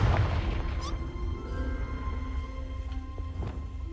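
A Confringo spell blast in Hogwarts Legacy, a dull booming burst up front that fades into a rumbling tail with light clattering debris.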